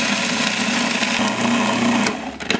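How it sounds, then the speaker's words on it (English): A kitchen blender grinding a garlic clove with salt into powder, a steady high-pitched motor whir that holds loud and even for a couple of seconds before briefly dropping and stuttering near the end. "now we're just gonna blend it into a powder"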